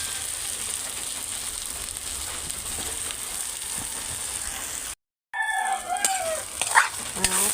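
An egg drops into a hot pan of papaya and starts sizzling, a steady frying hiss that briefly cuts out, then returns with clinks and stirring scrapes, close by with no talk.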